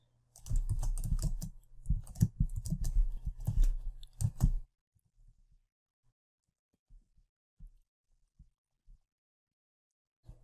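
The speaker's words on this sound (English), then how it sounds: "I'm going to type in the song" Computer keyboard being typed on nearby, a quick burst of clicking keystrokes for about four seconds, followed by a few faint isolated taps in near silence.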